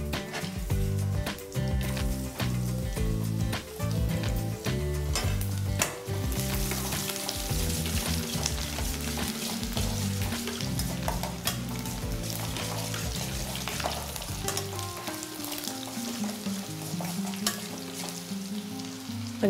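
Cumin, cinnamon, clove and garlic crackle and sizzle in hot oil as a tempering is made, with a continuous close frying hiss, scattered pops, and music playing underneath.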